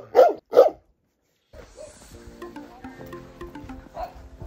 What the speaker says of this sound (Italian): Sentite i rumori? Cani, galline,